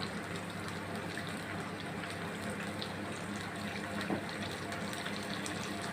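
Water runs steadily into a cooking pot while curry is being made, about half a glass poured in one continuous, fairly loud gush with a soft splash near the end.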